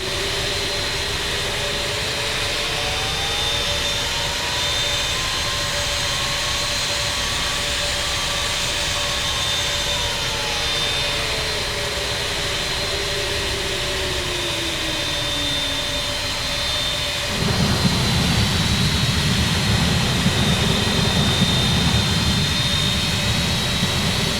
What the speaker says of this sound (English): I'm going to unmute my simulator and we can take a listen to the engines